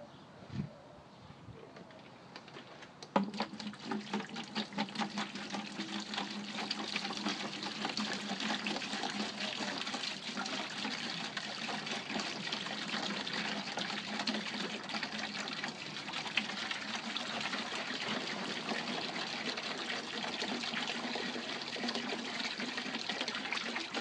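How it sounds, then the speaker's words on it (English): Water runs steadily into a container to mix a cleaning solution for a canvas awning, a continuous splashing hiss that starts abruptly after a short pause and carries on loud and unbroken without talk. "just go ahead and put in the water"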